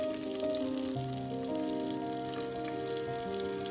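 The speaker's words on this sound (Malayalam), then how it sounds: "അപ്പോൾ അതാ ഞാൻ ഉള്ളിയൊക്കെ ഇട്ട് കൊടുക്കുകയാണ് കേട്ടോ" Chopped onions sizzle in hot oil for a vegetable kurma, a steady broadband frying hiss that runs unbroken and fairly close under soft background music.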